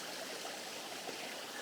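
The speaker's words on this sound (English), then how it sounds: "Little water trickle coming down through there" A small trickle of water runs steadily down through a rocky spot after days of rain, a continuous soft, bright babble close by with no voices.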